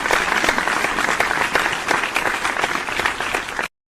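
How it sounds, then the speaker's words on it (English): Dense applause from a group fills the space, a steady loud patter of many hands clapping together for a few seconds before cutting off abruptly, celebrating a fantasy sports win. "we can all start clapping"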